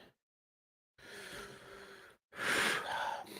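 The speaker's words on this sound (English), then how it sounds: "So you'll have to forgive my sniffling." Two long, congested nasal inhales sound close by, separated by a brief silence, each a breathy snuffling sniff.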